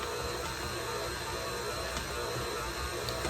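An old stand mixer on speed 3 kneads sticky pizza dough with a dough hook, giving a steady, continuous motor whir with faint ticking mechanical rattle throughout, no voices.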